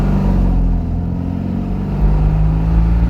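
Engine of a 1971 Fiat 500 running steadily and loud, with a continuous low drone whose pitch shifts slightly as the revs change during a double-declutch gear change, with no talking.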